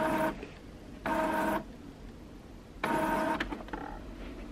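An inkjet-style home printer runs off pages of a large A4 tiled sewing pattern, with three separate bursts of mechanical whirring and feeding, separated by quieter pauses, fairly close and moderately loud.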